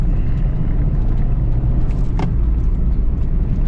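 A Honda Civic manual hatchback engine drones steadily at low revs while driving, with road rumble and a brief higher whine partway through.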